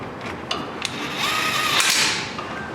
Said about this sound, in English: Tighten these 18mm bolts up.